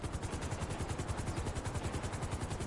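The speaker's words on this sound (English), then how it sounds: "Once the helicopter is landing, you head on over to your luxury helicopter" Helicopter rotor blades chop in a fast, steady rhythm as a helicopter lands in GTA V Online, loud and close, with no other sounds.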